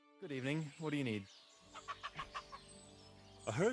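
A black cockerel in Kingdom Come: Deliverance II gives a short run of five or six soft, evenly spaced clucks, with a voice talking just before and after.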